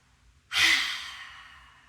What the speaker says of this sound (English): Taking a deep breath in again, and just a really audible exhale through the mouth.